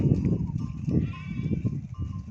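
Karayaka sheep bleat in short repeated calls close by, grazing in a wheat field.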